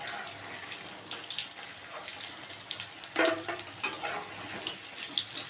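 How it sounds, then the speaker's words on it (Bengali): Cut potatoes dropped into hot oil after frying paneer, a steady sizzle and bubbling with brief louder crackles as pieces go in, fairly close and with no talk. "এবার কেটে রাখা আলুগুলো দিয়ে দেবো তেলের মধ্যে।"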